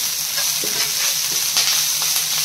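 Ginger garlic paste fries in a pan with a steady, close hiss and sizzle, faint scraping of stirring mixed in, no voices.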